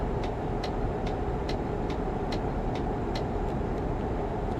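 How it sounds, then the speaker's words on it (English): Iveco Stralis turn indicators in Euro Truck Simulator 2 tick in a steady, even rhythm of about nine clicks over a constant low engine and road drone, with no voices. "Nasty sounding indicators."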